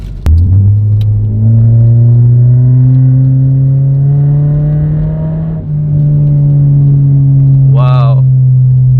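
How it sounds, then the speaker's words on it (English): A Mazda 3 with its resonator deleted revs in gear, a loud, deep exhaust drone that climbs slowly in pitch over several seconds, then briefly dips, close to the microphone, with a short excited voice near the end. "Let's see how loud this thing is at a lower RPMs, and I'm gonna switch this thing into gear."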